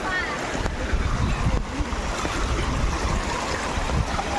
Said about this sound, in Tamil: ஃபுல்லாக தண்ணி போயின்னு இருக்குது